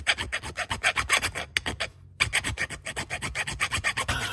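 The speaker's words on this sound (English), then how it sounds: "I'm going to grind that on the top and then file out the slot" A hand file rasps back and forth across a welded distributor part for a 1973 Dodge Charger 440 big block, cutting a slot in a quick, steady rhythm of close, loud strokes with one brief pause.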